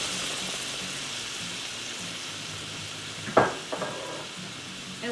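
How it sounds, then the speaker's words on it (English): White wine splashes into a hot pan for pappardelle carbonara, setting off a steady sizzling hiss with a brief louder burst as it hits, close and without talking. "right here, guys, is where I'm going to add in some white wine"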